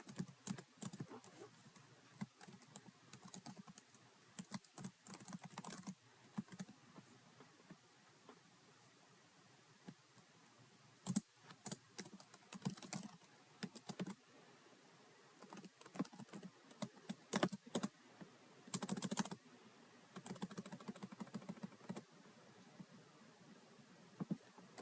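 Typing on a computer keyboard while writing introductory programming code, with steady bursts of quiet, close key clicks and brief pauses and no talking.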